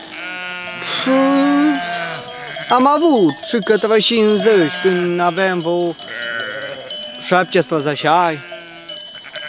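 Sheep bleat loudly and repeatedly on a farm in a small flock, their wavering cries close by, with a cowbell clinking faintly and someone speaking between the calls.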